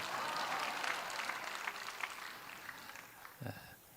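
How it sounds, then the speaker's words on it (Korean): A church congregation applauding at a special revival service, a dense patter of claps from a crowd that tapers off, with a brief voice near the end. "박수 치라고도 안 했는데 박수를 치네."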